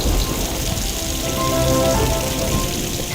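Steady rain pattering on a surface, a continuous dense hiss with no voices.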